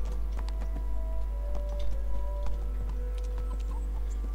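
In the medieval video game Kingdom Come: Deliverance, a horse's hooves clip-clop in a steady, fairly quiet walking rhythm, mixed with other light game sounds.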